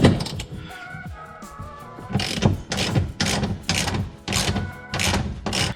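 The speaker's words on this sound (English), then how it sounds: "we have to unbolt the seat and take it out from the" A ratchet wrench loosens the seat bolts on a 2021 Can-Am Maverick X3 Max. Close, repeated bursts of metallic clicking come in a steady rhythm, with brief pauses between strokes.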